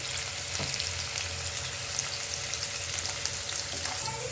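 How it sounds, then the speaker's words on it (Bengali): Chopped onions sizzle in hot oil in a pan, salted to brown them faster, with a steady, close crackle and occasional stirring clicks throughout. "ভাজা ভাজা তো লালচে করে ভেজে নিতে হবে পেঁয়াজটা।"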